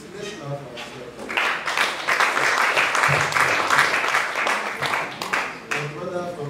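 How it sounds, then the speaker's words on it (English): An audience applauds at a tech fellows graduation, a burst of moderately loud clapping rising after speech and holding for a few seconds before fading back under a talking voice. "Let's clap for ourselves."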